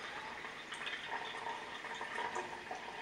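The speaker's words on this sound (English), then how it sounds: "I've already got some water in here, and I'm just going to rinse the filter" Water pours steadily into a paper filter in a Chemex glass coffee maker, a continuous soft splashing trickle with no voices.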